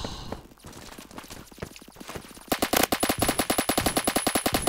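Rapid automatic gunfire in Roblox Phantom Forces, a fast, loud, evenly spaced burst that starts partway through after a few scattered shots and footsteps.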